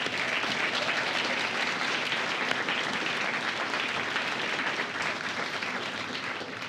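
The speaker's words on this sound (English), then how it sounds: "Can we give our MTIs a round of applause?" Sustained applause and clapping from a large crowd at an Air Force basic military training graduation parade, honoring the military training instructors; dense, steady, and continuous throughout without a break.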